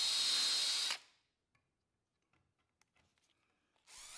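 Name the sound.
power drill pre-drilling wood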